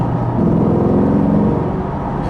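A 2020 Chevrolet Corvette Stingray Z51 V8 engine hums and revs at a steady, fairly loud level for a couple of seconds, its throaty non-valved exhaust note holding close by.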